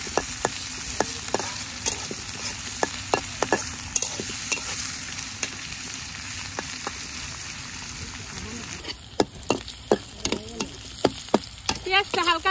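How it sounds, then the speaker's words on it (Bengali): Chopped onions with garam masala sizzle in hot oil in a kadai, a steady crackling fry broken by frequent sharp clinks and scrapes of a spatula stirring, close up and fairly loud. "পেঁয়াজটা একটু ভাজা ভাজা করে নিই।"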